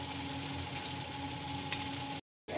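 Fish and egg chops frying in hot oil, a steady close bubbling sizzle that cuts out briefly before resuming, with no voices.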